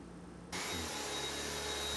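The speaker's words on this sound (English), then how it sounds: "After buying an anti-dust mite vacuum cleaner, Ms. Pan has been busy vacuuming" An anti-dust mite vacuum cleaner switches on abruptly after a quiet moment, then runs at a steady, loud, close whine with a constant motor hum and no talking.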